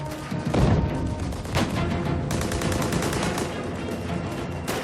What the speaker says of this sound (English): The Canadians are being punched down by sniper fire